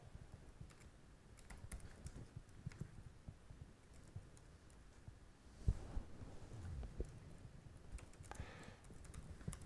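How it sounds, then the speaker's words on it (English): Fingers tap on a computer keyboard in irregular bursts of light clicks, faint and close, with a low hum underneath while making an ID card template in Asure ID software. "Some people are better at typing than I am"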